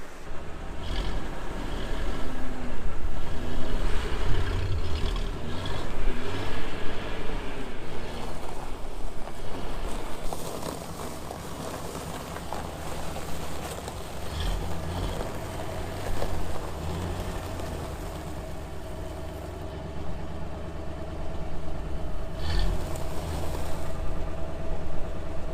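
A 1988 Chevy R30 dump truck engine idles steadily nearby under a tent, a low continuous rumble with slight swells in loudness holding for the full length.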